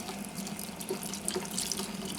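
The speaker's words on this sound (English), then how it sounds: "Pour in the lemon juice." Freshly squeezed lemon juice poured into a bowl while making lemon curd, a steady trickling, splashing liquid sound heard close up with no talking.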